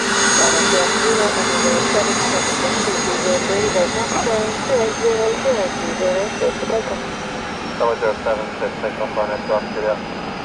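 Business jet taxiing close by at Luton airport, a loud sustained turbine whine and rumble filling the whole stretch, with a voice talking over it.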